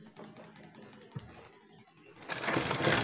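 A sewing machine stitches a piping shirt collar, with soft clicks and handling sounds at first before the motor whirs up loudly and runs steadily to the end.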